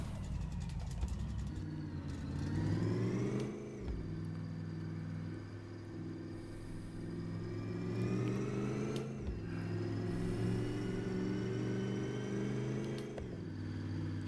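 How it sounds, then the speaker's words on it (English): A truck engine in the My Garage video game drones continuously while driving, with rising and falling revs and several gear-shift dips, loud and close with no talk. "Truck sounds really good."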